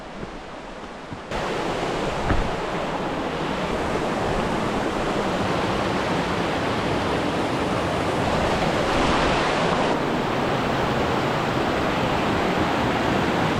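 River water flows in a continuous, loud, broadband rush, steady and close throughout, with no voices over it.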